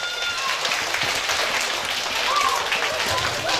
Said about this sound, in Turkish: O zaman alkışlar oyunumuz başlasın